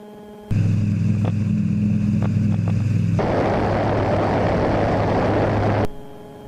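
A light sport aircraft's engine drones loud and steady on takeoff from a short runway, its tone shifting partway through as it gains speed, then cutting off abruptly.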